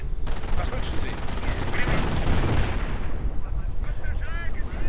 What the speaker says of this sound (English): More artillery being sounded off